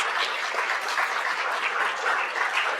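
An audience at a conference claps in a steady, even wash of applause from start to finish, moderately loud and unbroken, with no voices over it.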